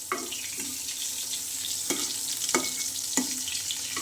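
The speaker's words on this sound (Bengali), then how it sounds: "বেগুন ভাজি আর ডিম ভাজি এখানে করবো।" Eggplant frying in a pan for a home lunch, a steady hiss of sizzling oil with a few sharp clatters of stirring or utensil strikes, no talk.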